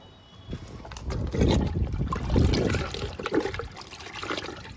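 Liquid poured onto the soil of a large lemon plant, a gurgling, splashing stream of water that swells and continues for several seconds, close by with no talking.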